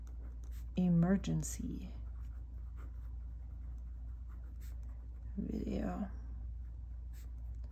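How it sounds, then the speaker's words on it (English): A pen writing by hand in a journal gives a faint, steady scratching under a low background hum, while a voice speaks briefly near the start and again later. "Let me write that down."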